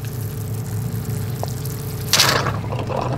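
A wash down pump runs steadily with a low hum while old water purges from the line, and a louder gush of pouring water breaks in near the end.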